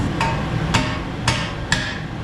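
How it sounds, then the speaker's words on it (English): Four sharp metallic hammer strikes land at a steady pace on a Toyota Avalon outer tie rod end, ringing briefly and loud, with no talking. "you can actually hit up on this with like 3-pound sledge or just a regular old hammer"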